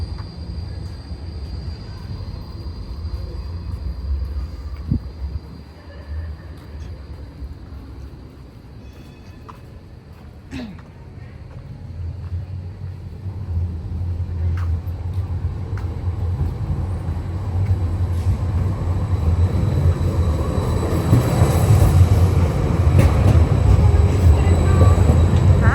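Trains run through Basel, Switzerland, near a market square on a Sunday, their low rumble rising steadily and growing loudest toward the end, with faint background activity and no talk.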